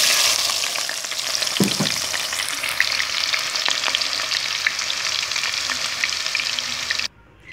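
Onions frying in a pan of hot oil with cumin, cardamom, curry leaf and black peppercorns for matar pulao, a loud, steady broadband sizzle with a brief clatter near the start, ending abruptly.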